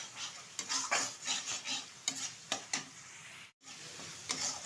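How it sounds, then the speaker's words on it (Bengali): Spiced mankochu (giant taro) curry frying in ghee, stirred with repeated scraping spatula strokes over a steady sizzle, close and fairly loud, with a brief silent gap partway through. "আবারও 1 মিনিট মতো আমি নাড়িয়ে চাড়িয়ে নেব"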